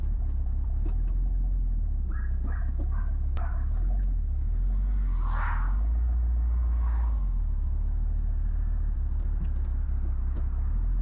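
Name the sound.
1976 Ford Ranchero 500 engine running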